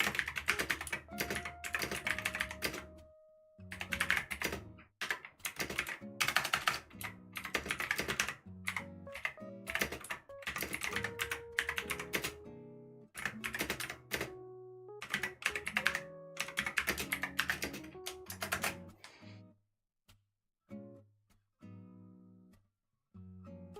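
Rapid clacking on a computer keyboard comes in bursts with short pauses, close and clear, trailing off into a few scattered keystrokes at the end.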